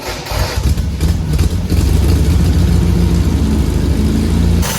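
MGB car engine, revived after ten years of sitting, idles with a loud, steady low rumble heard close up, with no talk over it.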